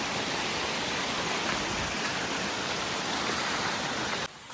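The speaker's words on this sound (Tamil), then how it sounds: "அருவியை கடந்து நம்ம போகணும்" A waterfall near Kodaikanal in the hills rushes with a loud, steady broadband roar that holds evenly for over four seconds, then drops off sharply at the very end.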